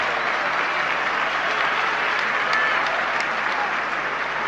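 Steady applause rolls through the stands at a Beşiktaş versus Athletic Bilbao UEFA Cup football match, a dense, even wash of distant clapping and crowd noise with a few faint sharper claps.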